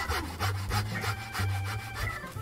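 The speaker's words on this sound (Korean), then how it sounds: "톱이 무딘 건지 나무가 단단한 건지 굉장히 안 잘립니다." Hand saw cutting through hard wood, a rhythmic series of rasping back-and-forth strokes, about five to six strokes at a steady pace, close and distinct with no voices.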